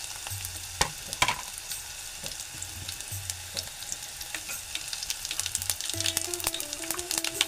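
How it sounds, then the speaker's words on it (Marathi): Mustard and cumin seeds sizzle in about two spoons of hot oil with crushed garlic, a steady close crackle with scattered pops and the scrape of stirring, and no voices. "आणि लगेच त्याच्यावरती मी राई जिरं टाकणार आहे."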